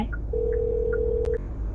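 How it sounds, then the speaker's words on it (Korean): Telephone call connecting tone heard from inside a taxi, a short steady electronic tone lasting about a second over a faint background hum, with no talking. "승객에게 연결 중입니다"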